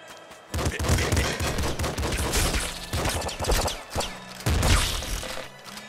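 Rapid video-game gunfire from the character Ice in Nuclear Throne rattles out in dense, loud bursts, with short pauses between volleys of shots.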